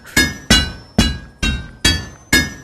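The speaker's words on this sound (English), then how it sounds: "You're going to take it here and you're going to hammer the whole thing" A forging hammer striking metal in the VR game A Township Tale: six sharp, ringing clangs evenly spaced about half a second apart, each with a bright metallic decay, heard alone and close.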